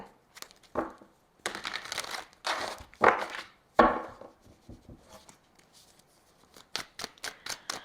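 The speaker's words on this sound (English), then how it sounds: "I forget where I am in the shuffling process when I stop and talk" A deck of tarot cards is shuffled in bursts of riffling and flicking, with irregular pauses between sharp, crisp card slaps, close and fairly quiet.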